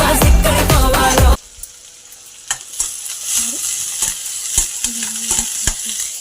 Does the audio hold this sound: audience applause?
no